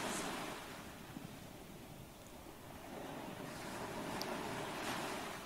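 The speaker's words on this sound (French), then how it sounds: "les vagues continuent de monter encore un petit peu" Ocean surf rolls in as a steady, broad wash of waves with a slow swell in loudness toward the end, heard alone at a soft, distant level with some wind.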